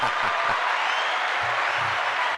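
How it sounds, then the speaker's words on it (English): Audience clapping at a live show, a loud, dense burst of applause sustained evenly throughout and cutting off abruptly at the end, with faint low voices underneath. "Can we get a clap for that?"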